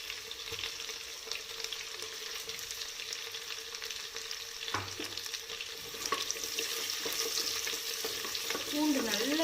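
Crushed garlic hits hot oil in a pan with a steady crackling sizzle that grows louder, with stirring scrapes and a splash near the end.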